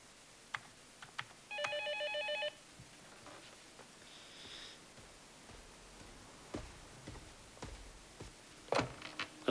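A telephone rings in a quiet room, a short electronic ringing burst followed by scattered faint clicks, taps and brief beeps, with no voices.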